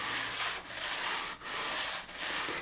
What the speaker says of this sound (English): we're going to come in with some like way higher grit and just polish all the ends up